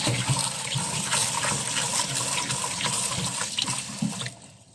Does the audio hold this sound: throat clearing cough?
no